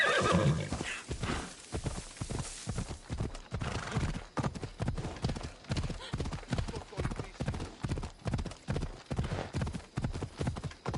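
In Assassin's Creed Odyssey, a horse gallops with quick rhythmic hoofbeats and gives a whinny near the start, loud and close, with brief voices from the game.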